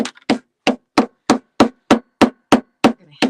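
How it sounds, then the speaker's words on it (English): A hammer strikes a screwdriver held against a tin can to punch holes, producing ten sharp metallic taps at a steady, fairly quick rhythm, close and clear, with no talking. "You're going to take your hammer and on your pattern or randomly"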